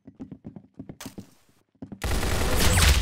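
Video game gunfire: a rapid string of light shots and thuds, then a sudden loud, sustained burst of heavy firing and roaring noise in the final second.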